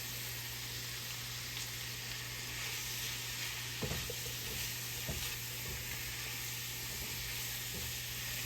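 Mushrooms sizzle steadily in oil and bacon grease for a green bean casserole, a close continuous frying hiss broken by a few soft stirring clacks of a utensil in the pan.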